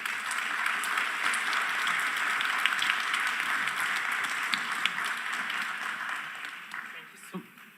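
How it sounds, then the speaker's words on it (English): Audience applause for award winners at a global forum ceremony, steady dense clapping from a crowd sustained for several seconds before thinning out at the end, with faint voices underneath. "So a big round of applause"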